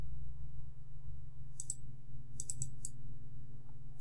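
Mouse clicks in Photoshop while opening a file: a few sharp, quiet clicks, one single and then a quick cluster, over a steady low computer hum with no talking.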